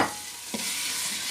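Spinach being stirred into tomato paste in a hot pan for a peanut butter sauce: a steady close sizzle, with one soft scrape of the spoon partway through.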